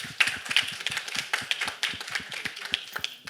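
Live audience applause at a song launch event: dense, irregular clapping from a crowd, steady and fairly close for the whole few seconds.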